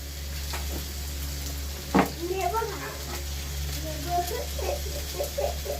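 Fried potato and eggplant tipped into a sizzling pan of dried loitta fish, a steady close frying hiss with a sharp burst as they land and stirring clatter after, while a person talks over it.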